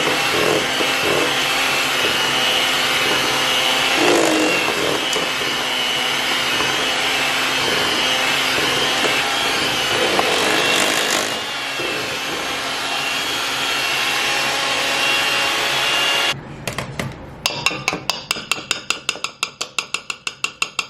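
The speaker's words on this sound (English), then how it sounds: "I'm definitely going to be using my hand mixer for this one." An electric hand mixer whirs steadily through carrot cake batter for most of the stretch, then stops and gives way to a run of sharp, evenly spaced knocks and taps near the end, with no talking.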